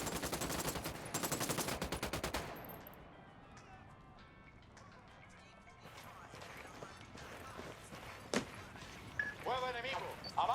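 A Ghost Recon battle opens with a rapid burst of automatic gunfire, followed by quieter scattered shots and sharp single reports under radio chatter and talking voices.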